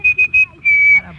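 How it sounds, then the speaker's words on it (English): A person whistles a short tune: three quick clipped notes followed by one longer held note, clear and close. "Anytime you need me, just whistle. Like this."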